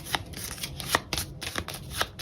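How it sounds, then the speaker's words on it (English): A deck of board game cards is shuffled by hand nearby: a steady run of crisp riffling bursts and flicks at roughly quarter-second intervals, fairly quiet, with no talking. "we're going to collect up all his cards, shuffle them up"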